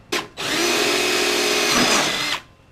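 A power tool spins out a fender bolt on a first-generation Honda Pilot, a brief whir followed by a steady, loud, close-up drilling whine lasting about two seconds before cutting off.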